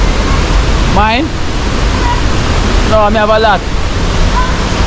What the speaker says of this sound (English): where we want to cook is too much noise from the river, from the far